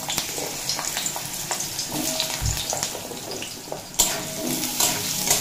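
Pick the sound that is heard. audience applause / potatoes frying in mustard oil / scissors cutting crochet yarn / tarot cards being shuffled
potatoes frying in mustard oil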